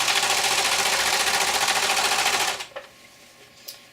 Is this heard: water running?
no